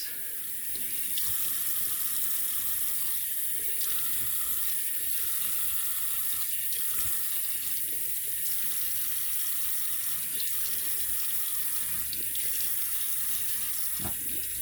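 Tap water running steadily into a sink while the face is wetted before a shave, a loud, close, continuous splashing hiss with small bursts where hands break the stream, no talking.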